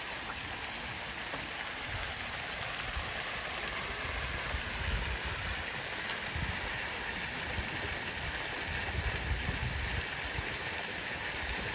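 A river runs near a 16th-century bridge in the village of Góis, Portugal, a steady broadband rushing of water that stays even and fairly soft for the whole stretch, with no voices.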